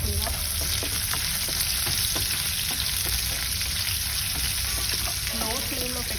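Lentils and onions frying in hot oil over a low flame for tomato pachadi make a steady, close sizzle, with a few light clinks and stirring scrapes near the end.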